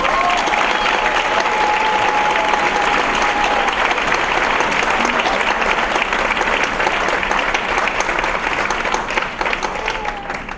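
A school audience at an 8th grade moving-up ceremony breaks into loud, sustained applause, many hands clapping together in a dense wash that fills the room and holds steady before easing slightly at the end.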